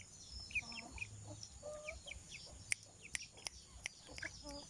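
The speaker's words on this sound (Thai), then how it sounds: "ไก่ปลาก้อยตัวนี้พม่า" Burmese fighting rooster giving soft, scattered clucks and short calls, mixed with other fowl calls over a steady farmyard background with a few sharp clicks.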